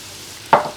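A brief sizzling rush as chopped tindora (ivy gourd) pieces drop into hot oil with softened onions in a pan during a stir fry, one sudden burst that quickly fades.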